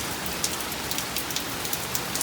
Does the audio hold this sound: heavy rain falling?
yes